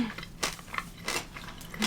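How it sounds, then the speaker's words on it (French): Crunchy pistachio caramel bar from a Tokyo 7-Eleven bitten and chewed up close, giving several quiet, brittle crunches spread across the moment with no talking. "je sens trop quand je croque résonner dans mes oreilles"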